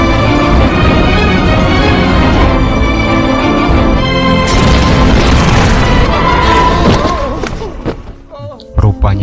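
A loud explosion in a Bollywood film scene, with booming blasts and crashing debris layered under dramatic music, fading toward the end.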